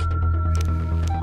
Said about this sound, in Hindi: अरे विद्या बालन, ये किसका फोन है?